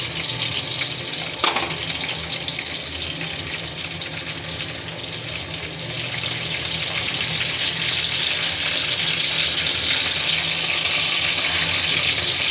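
Small baim fish fry steadily in hot oil in a pan, a dense, even sizzle that runs the whole time with one brief clink near the start and no voices.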